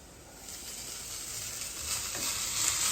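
Cooked rice tossed into a hot pan and stirred, giving a steady close sizzle and frying crackle that swells slightly toward the end, with no voices.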